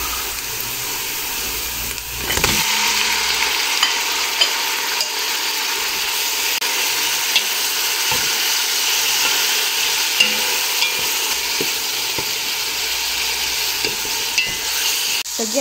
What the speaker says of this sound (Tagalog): After maluto ang onion, hindi siya gaano nga brown, lagyan natin ang ating chicken.